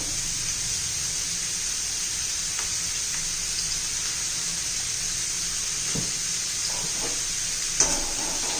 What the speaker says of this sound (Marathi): आपलं दोन तीन मिनटं परतून घेऊया म्हणजे त्याचा कच्चेपणा घालवायचा आहे